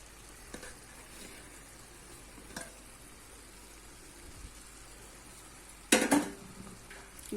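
Cooked rice is stirred into a garlic and tomato mixture in a pan, with a soft, steady frying sizzle and occasional close clinks of a spoon against the pan, including one louder scrape near the end.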